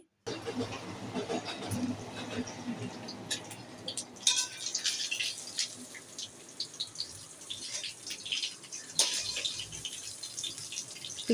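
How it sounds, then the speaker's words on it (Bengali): Tap water runs steadily over potatoes, onions, tomatoes, ginger and garlic being washed, with a faint rushing hiss, occasional splashes and knocks, and a voice under it at times. "আলু পেঁয়াজ টমাটো আদা রসুন সবগুলো ভালো করে ধুয়ে দিলাম"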